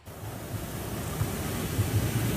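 Ocean surf washes onto a beach with a broad, continuous roar, heavy wind buffeting the microphone, and no voices.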